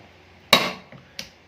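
An impact press gives a stroke: one sharp metallic bang with a short ringing decay, then a faint knock and a smaller second hit.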